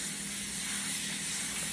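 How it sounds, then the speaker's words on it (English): Olive oil spray hissing onto Cool Ranch Doritos-coated chicken in one steady, close, continuous burst, with no talking. "I got some olive oil spray just so it can give a little crisp to it"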